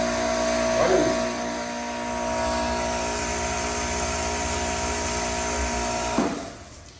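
A WAP Extreme high-pressure washer motor runs with a steady, loud whine and hum close by, with a small surge near the start and a change in tone before it winds down at the end.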